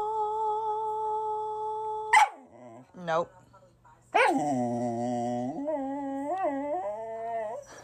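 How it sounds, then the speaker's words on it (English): A pet dog howls in a sustained, wavering, tonal way that sounds like singing, broken by a couple of short yips, with a person speaking briefly between the howls. "She actually taught her dog how to sing."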